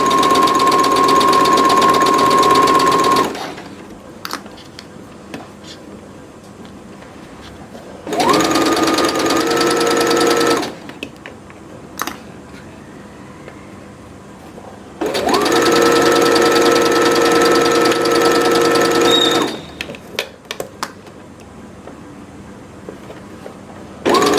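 Stitching a foldable grocery bag, a sewing machine whirs in three separate loud bursts of a few seconds each, with quiet pauses between them as the fabric is repositioned.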